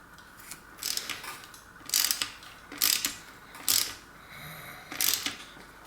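A part is screwed into a mountain bike frame during a 26-inch to 700c wheel conversion, giving five or six short ratcheting tool bursts at a steady rhythm, close and moderately loud with quiet gaps between.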